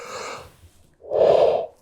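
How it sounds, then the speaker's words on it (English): A person yawning while sitting and talking about energy topics, an airy breath followed by a longer, louder open-mouthed exhale, close up and alone with no speech. "I am sitting here yawning"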